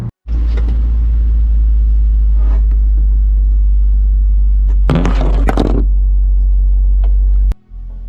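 A car drives along a road during a Tennessee, Kentucky and West Virginia road trip. A heavy steady low rumble holds throughout, with a brief louder rattle midway, heard from inside and with no talking.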